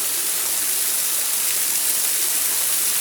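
Heavy rain falls near a mountain waterfall, producing a dense, constant hiss of water that stays loud and unbroken throughout, with no voices.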